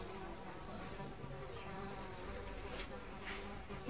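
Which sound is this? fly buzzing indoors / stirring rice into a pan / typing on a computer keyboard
fly buzzing indoors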